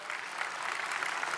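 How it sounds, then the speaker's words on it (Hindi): A crowd gives steady, full applause to welcome a guest, a spiritual guru, on stage. "जोरदार तालियों के साथ स्वागत कीजिए"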